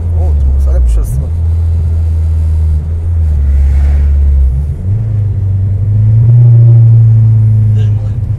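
Honda Civic Type-R turbo engine pulling hard under acceleration from inside the car, a loud steady drone that climbs in pitch through the gears, with people talking over it.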